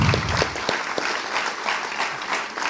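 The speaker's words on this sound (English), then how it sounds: "So I want to give them a round of applause for that too." Audience applause at a graduation ceremony, a dense crowd clapping steadily and loudly from start to finish, with a couple of sharper claps early on.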